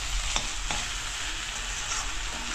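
Jute leaves frying with onion in a pan give off a steady, close sizzle throughout, broken by two or three sharp stirring scrapes near the start, with no talking.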